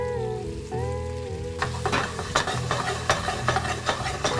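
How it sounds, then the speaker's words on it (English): A pan sizzles softly as food cooks, with a steady hiss that starts quiet and grows brighter and busier about halfway through, including crackles and small stirring knocks. "Pan's just warm, you can hear it sizzling a little bit."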